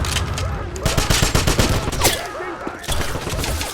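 Rapid bursts of gunfire from the Wolfenstein video game crackle and pop in quick, uneven volleys, loud and close, with several overlapping shots forming a continuous fusillade.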